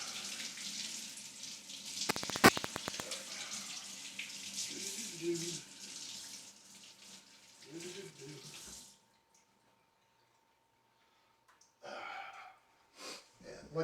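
Potatoes washed under a running kitchen tap for a shepherd's pie, a steady close rush of water broken by sharp clicks and clatters, then the flow stops and a few faint splashes follow. A voice speaks over the water.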